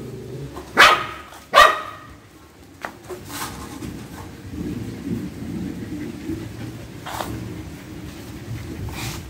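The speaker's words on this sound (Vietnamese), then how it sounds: "Rồi mưa gió ra ngoài đó, chị Mai vô con" Outdoor thunderstorm with steady rain and wind, a low rumbling wash throughout, broken early by two sharp close barks from a dog and a few later short bursts.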